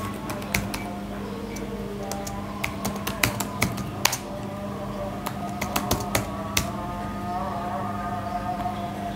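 Keys tapped on a computer keyboard in irregular bursts of sharp clicks, close and moderately loud over a steady low hum, with no one talking.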